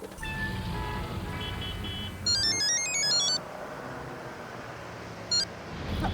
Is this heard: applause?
no